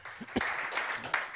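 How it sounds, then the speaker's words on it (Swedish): Brief, modest applause from a small seminar audience at a Swedish trade event, a short patter of clapping that rises and fades within a moment. "Liten applåd."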